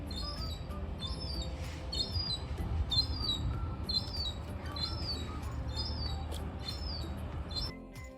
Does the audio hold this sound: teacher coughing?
no